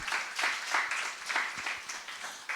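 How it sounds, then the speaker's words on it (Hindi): Church congregation at a Hindi-language worship service clapping together in a steady rhythmic beat, soft and somewhat distant, with faint voices mixed in. "ताली बजाए प्रभु के लिए"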